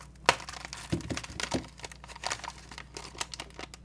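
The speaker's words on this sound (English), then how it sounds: "Let's cut this tape here." Packing tape on a parcel being cut, with a sharp crinkly crack followed by a few softer tearing and rustling sounds, close and moderately loud, with no talk.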